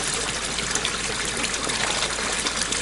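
Spring-fed water trickling and splashing steadily, heard up close as a dense, continuous bright babble with no pauses and no voices.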